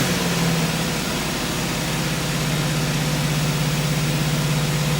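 Car engine idling high at around 2,000 rpm, a steady, even hum with a constant low tone and broad hiss, unchanging throughout and with no talk.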